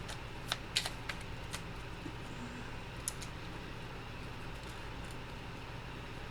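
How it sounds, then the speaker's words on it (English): A fairy tarot card deck being shuffled, with a few crisp riffling clicks near the start and scattered light card taps over a steady low background hiss, close and fairly quiet. "I'm gonna shuffle for another one"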